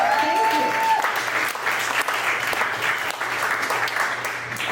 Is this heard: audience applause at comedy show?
yes